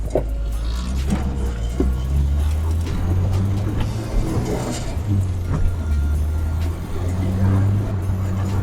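An old Volkswagen MK1 car drives along with a loud, steady low engine drone and rumble of road noise, rising and falling slightly throughout with no talking.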